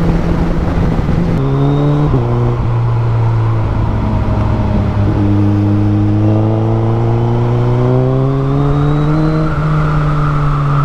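Car engine accelerating hard through several gears, a loud steady drone with rising pitch and brief dips at each shift, heard continuously from close by without talking.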